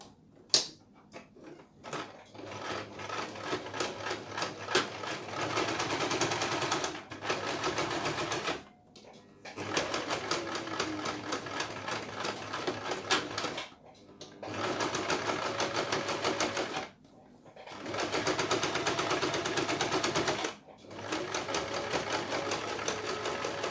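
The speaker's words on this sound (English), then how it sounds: "I'm going to sew them and then you can see." A sewing machine stitches the corners of a homemade tote bag in loud, steady runs of rapid mechanical whirring, broken by several short pauses between seams.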